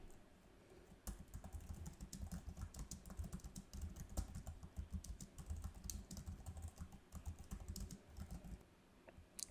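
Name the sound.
typing a prompt on a computer keyboard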